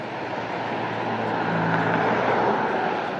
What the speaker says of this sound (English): I better wait for the cars.